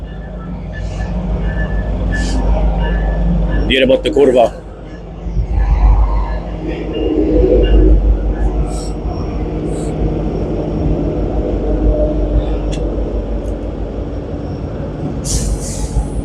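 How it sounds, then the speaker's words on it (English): A train rumbles past beside a truck during an Illinois pre-trip inspection, a loud sustained roar with a brief squeal and clatter, as someone talks over it. "Train."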